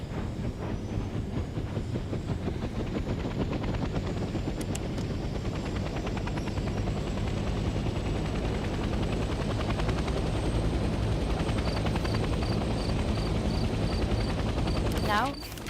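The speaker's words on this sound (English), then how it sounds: "The helicopter will now take off automatically and remain in a hover state." Military helicopter in the video game Hell Let Loose: Vietnam lifts off and settles into a hover, its rotor chopping in a steady, loud, continuous thrum with a rhythmic whine and a faint repeating beep toward the end.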